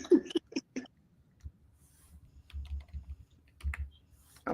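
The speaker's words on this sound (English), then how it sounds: "I'm sitting here typing." Light typing on a computer keyboard: sparse, irregular clicks in short bursts, quiet and close, with pauses between them and no talking.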